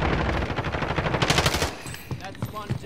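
Rapid bursts of automatic gunfire from enemies in Call of Duty Warzone (Modern Warfare), loud and dense, rattling continuously with overlapping shots before thinning into scattered pops near the end.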